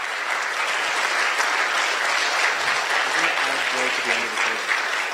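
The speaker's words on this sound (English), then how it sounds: "I just want to have a round of applause for these candidates who have stepped up" Steady, dense applause from the audience at a mayoral candidates' debate, a loud, even wash of many hands clapping for the whole stretch, with no voices over it.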